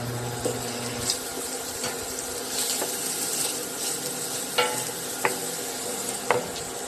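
Butter sizzling in a pan with garlic and onion for a carbonara, a steady close frying hiss with scattered crackles and small clicks of stirring, no voices.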